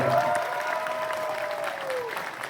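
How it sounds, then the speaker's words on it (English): Convention crowd at a sci-fi con panel applauds the Red Dead Trio, a steady dense roar of clapping that holds for the whole stretch, fairly loud and close, with a faint voice line drifting underneath. "One more big hand for the Red Dead Trio."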